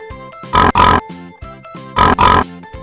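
Pair after pair of loud, close pig grunts and oinks, with short gaps between the pairs, rise above a light music bed. Nobody speaks.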